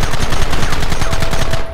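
Rapid continuous gunfire hammers close and loud in Red Dead Redemption, a dense rattling stream of shots with no pauses.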